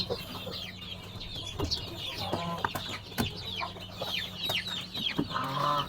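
Backyard chickens, pure Chinese Silkies alongside a Cornish Black crossbreed, cluck and chatter in a small coop, with repeated short calls and occasional sharper squawks, near and moderately loud with no talking.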